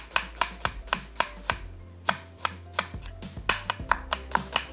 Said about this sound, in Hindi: आधी प्याज को हमने स्लाइस करना है और आधी प्याज के छोटे पीसेस में काट लेना है।